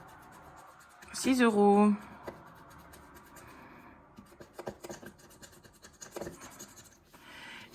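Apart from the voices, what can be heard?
scratching a scratch card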